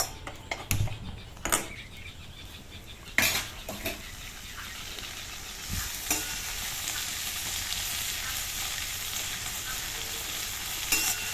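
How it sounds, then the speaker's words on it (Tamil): Pirandai (adamant creeper) sautés in oil in a pan, giving a steady close sizzle broken by loud clanks and scrapes of a spoon against the vessel at intervals. "போட்டு அந்த பிரண்டையை நல்லா வதக்கணும். கலர் மாறி வர அளவுக்கு வதக்கணும்."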